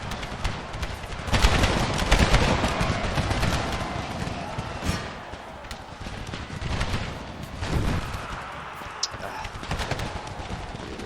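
Musket volleys crackle through a Civil War battle game, with dense ragged bursts of gunfire rolling on and off amid battlefield clatter. A voice speaks over the firing.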